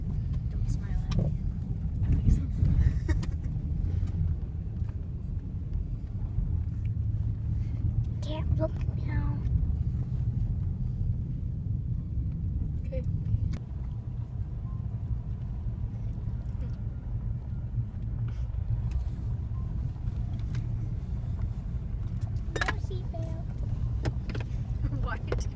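Inside a moving car, the engine and road rumble forms a steady low drone throughout, with faint rattles and clicks on top and people talking now and then.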